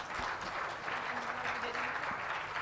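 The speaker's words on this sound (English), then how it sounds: "please give a big applause to our two speakers in here" An audience at an international academic conference applauds its two speakers, a moderate crowd clapping that stays fairly steady throughout, heard from within the hall.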